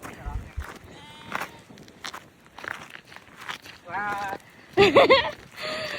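A sheep bleats loudly near the end, with scattered footsteps, shuffling and voices earlier.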